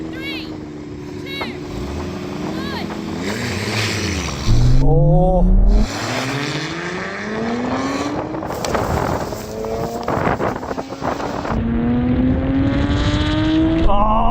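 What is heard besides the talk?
Nissan GT-R cars launching and accelerating in drag race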